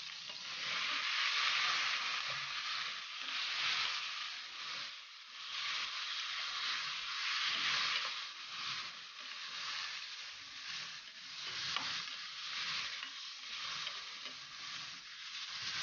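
Chicken wings sautéing with sliced garlic and onion in a hot pan for Ilonggo-style adobo, a steady close sizzle and frying hiss that runs continuously with slight stirring swells and no talk.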